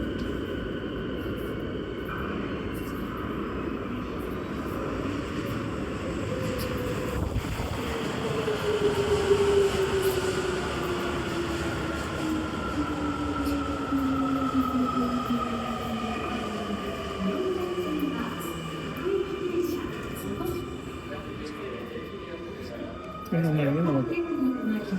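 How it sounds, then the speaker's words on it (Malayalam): Subway train pulling into a station platform in Japan, a rising and falling rumble with a long gliding whine and squealing tones as it approaches and slows, heard nearby over steady station ambience. "അപ്പോൾ ആ ഡയറക്ഷനിൽ നിന്നാണ് ഈ ട്രെയിൻ വരേണ്ടത്"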